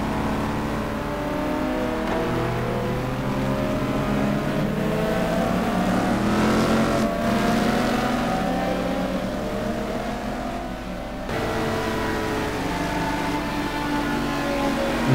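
Race car engines from Ferraris and other cars in the simGT racing game roar steadily, with rising and falling revs and overlapping gear-change whines, loud and continuous throughout.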